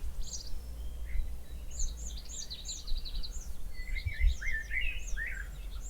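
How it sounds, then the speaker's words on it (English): Several birds sing and chirp in the morning outdoors beside a vegetable garden, with bright repeated calls scattered across the whole stretch over a low steady background rumble, no talking. "The birds are saying good morning as well."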